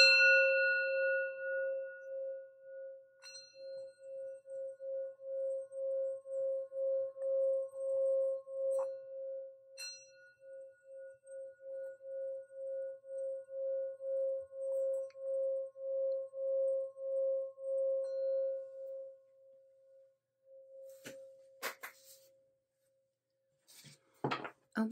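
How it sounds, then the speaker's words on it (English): A singing bowl rung for a spiritual reading rings a steady, pure sustained tone that pulses gently as it is circled, fading after about twenty seconds, with a few faint clicks and rustles at the end. "Let's ring the sound bowl, watch your ears"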